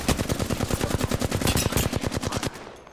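Rapid automatic gunfire in the video game Apex Legends, a steady stream of about two dozen evenly spaced, loud close shots that stops abruptly near the end.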